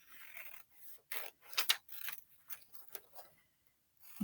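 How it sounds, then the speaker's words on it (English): Scissors cut out paper flowers from a worksheet, making a close, crisp series of irregular snips and paper rustles, with no voices. "So let's cut out our flowers."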